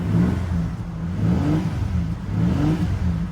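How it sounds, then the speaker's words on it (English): A 2005 Ford Ranger engine idles then revs up and falls back in repeated swells, a close, loud rumbling drone with rising and falling pitch, heard alone without talk. "Should we like rev it a little bit?"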